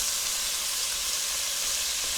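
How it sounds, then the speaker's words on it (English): Bacon sizzles and crackles steadily in a frying pan, a close, even hiss of spitting fat with no voices over it. "We're gonna check on that sizzling bacon"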